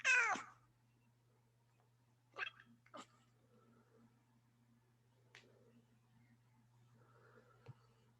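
A pet cat gives one clear, close meow indoors, followed by a few faint clicks and soft noises over a low steady hum.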